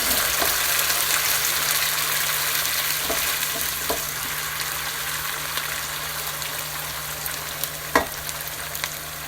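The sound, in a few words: sliced garlic sizzling in virgin olive oil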